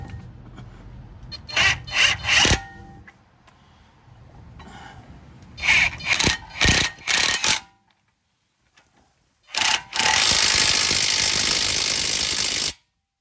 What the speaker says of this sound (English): We're going to tighten those bolts up there.